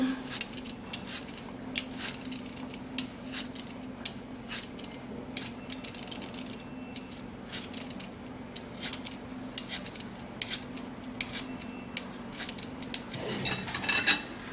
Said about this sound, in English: You're going to peel this potato.